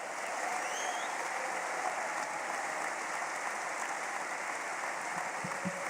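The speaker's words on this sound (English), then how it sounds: "Let's give a big round of applause to Beverly Turner" An audience at an anniversary event gives a round of applause as a speaker is welcomed, a faint, even patter of many hands clapping, heard from a distance and sustained throughout.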